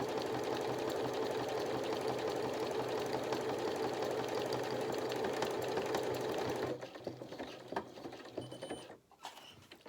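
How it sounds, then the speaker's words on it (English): A sewing machine stitches a buttonhole, running a steady, loud mechanical whir that stops abruptly partway through, leaving quieter clicks and handling noises before a final brief burst. "this little switch is going to tell it to reverse, which it has done. And it's come all the way back to the front again, and then it's going to complete that stitch, that buttonhole"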